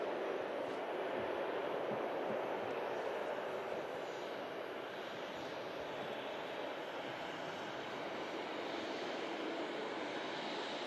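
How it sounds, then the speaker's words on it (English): A Qatar Airways Dreamliner jet taxis across the airfield at Manchester Airport, its engines a steady, faint distant roar with no voices. "Qatar Dreamliner on the move as well here on the airfield"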